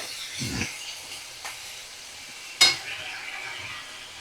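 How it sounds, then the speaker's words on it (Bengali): Prawns fry in a pan over a medium flame, giving a soft steady sizzle broken by a few sharp stirring scrapes, one louder clink near the end. "আমি মিডিয়াম ফ্লেমে রেখেই 2 থেকে 3 মিনিট একটু নাড়াচাড়া করব"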